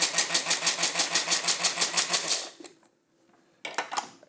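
Bamix hand blender grinding Parmesan cheese, buzzing in about a dozen quick, evenly spaced pulses, then falling quiet before one more short burst near the end.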